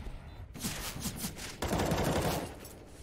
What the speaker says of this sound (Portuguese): O Cypher foi visto pelo Codzeira, troca tiros e consegue